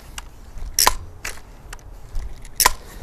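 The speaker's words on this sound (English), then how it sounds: "first I gotta pull this back, load up a BB, and then we'll pump it" Clicks and mechanical snaps from a Crosman Pumpmaster 760 or Daisy Powerline 35 BB air rifle being cocked, loaded and pumped, with three sharp, close transients spaced apart and a few softer clicks between, no talking.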